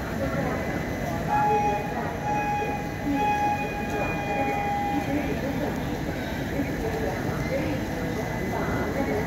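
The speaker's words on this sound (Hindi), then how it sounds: "train is pulling." Train moving off along the rails, a steady rumble with faint rolling clatter and a few brief tonal squeals, continuous and moderately near.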